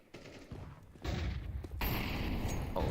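A flashbang grenade bursts in a Counter-Strike match amid a rapid exchange of gunfire, sharp loud cracks and a sustained bright blast filling the scene.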